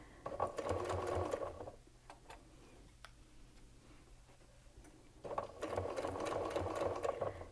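A sewing machine stitches a curved quilt seam in two close, rapid bursts of whirring, with a quieter pause of faint handling between them.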